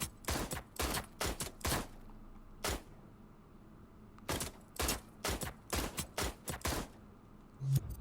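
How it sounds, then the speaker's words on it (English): Rapid bursts of gunshots hitting a target in the Dreams PS4 game, crisp synthetic impacts fired in quick clusters with short gaps between volleys, fairly loud and with no voices over them. "when we shoot the bullet at the target, it plays a sound and it loses health all the way to 0"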